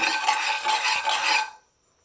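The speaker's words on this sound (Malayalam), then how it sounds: "നന്നായിട്ടൊന്ന് ഇളക്കി കൊടുക്കാം." Turmeric and salt are stirred inside a pressure cooker, giving a steady metallic scraping and rustling for about a second and a half before it stops abruptly into near silence.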